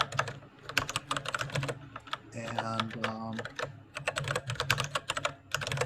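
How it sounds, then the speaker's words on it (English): Rapid clicking keystrokes on a mechanical keyboard, loud and close, with a brief pause where a person speaks before the typing resumes. "Who's got the mechanical keyboard?"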